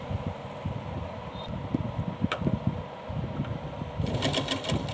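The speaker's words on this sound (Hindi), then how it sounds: "इधर वाली साइड से हम सिलाई लगाना शुरू करेंगे" A sewing machine stitches cloth for a Laddu Gopal dress, a faint steady mechanical whir with light rattling that becomes a quicker rhythmic chatter near the end.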